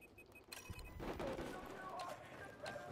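Gunfire in Battlefield 4 on Xbox 360 crackles in a rapid fusillade of sharp shots, fairly loud and continuous after a quieter opening half second, with a voice talking over the shooting.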